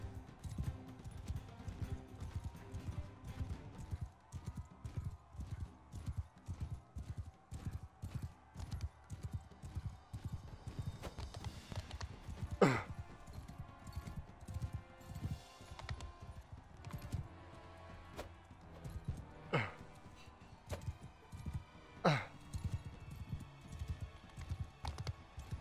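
Horse hooves clip-clopping at a steady galloping rhythm in Mount & Blade II: Bannerlord, a continuous run of close thuds with a few sharp distant cracks and faint whinny-like cries mixed in.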